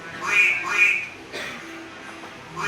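In a told story, a white goose is played as a sound effect. Its honking, quacking calls come in a few short bursts, close and moderately loud.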